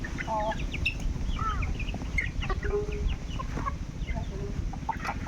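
Native village hens cluck steadily nearby, overlapping calls rising from a constant farmyard murmur, with faint talk in the background.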